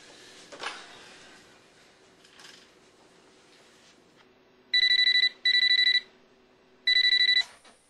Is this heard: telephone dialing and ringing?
yes